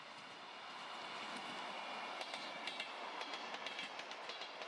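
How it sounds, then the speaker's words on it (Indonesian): Multi express toy train passing, a steady rolling rumble with rhythmic clickety-clack of wheels on rail joints, fairly faint and continuous, with sharper clacks growing toward the end. "ada kereta multi ekspres"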